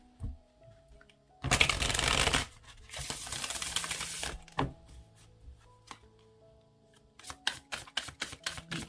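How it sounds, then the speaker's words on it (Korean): Tarot cards riffled and shuffled in two loud dense bursts, then drawn and laid down one by one in a run of sharp taps and flicks, close up, with no talking. "제가 5장 더 뽑아볼게요. 타로 카드."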